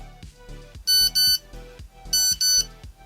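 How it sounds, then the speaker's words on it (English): A Nokia 3310 message alert tone plays twice, each a pair of bright, loud electronic chirps over a soft synth melody, close and clear with no talking. "that gives me goosebumps hearing that old Nokia message alert tone"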